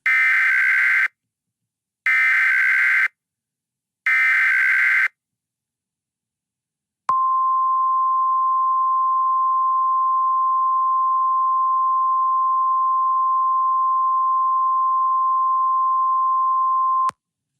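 Emergency Alert System tones: three one-second bursts of harsh digital header noise with short gaps, then after a pause a long, steady, pure single-pitch attention tone held for about ten seconds, loud and clean with no talk.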